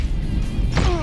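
Punches landing in a fighting minigame of a 2004 fugitive-capture video game, heavy thuds and a whooshing swing over busy game noise, close and loud.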